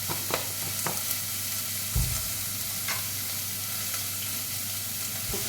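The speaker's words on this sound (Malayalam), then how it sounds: "ചെറുതായി ഒന്ന് വഴറ്റും. അതിലോട്ട് കുറച്ച് ഉപ്പിട്ട് കൊടുക്കുക." Onions with salt sauté in a pan for a toddy-shop fish curry, giving a soft, steady sizzle with occasional light stirring scrapes and one brief knock.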